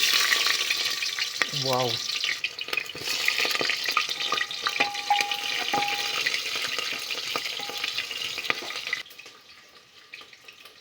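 Onion fries in a pan with toasted cumin seeds for a potato and bean vegetable dish, a loud close crackling sizzle with stirring clatter, a brief exclamation from a voice early on, and the sizzle fading toward the end.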